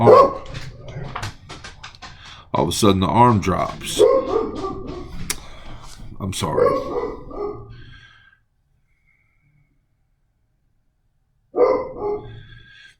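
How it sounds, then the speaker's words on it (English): A dog barks and whimpers in repeated bursts nearby while someone speaks over it, followed by a quiet stretch and then one more short bark. "That damn dog will not shut up."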